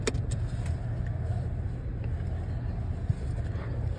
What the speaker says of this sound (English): 2022 Dodge Charger GT